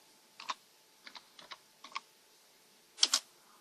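Several short bursts of keystrokes on a computer keyboard, a few taps spaced apart and then a quicker, louder double clack near the end, close and alone with no talk.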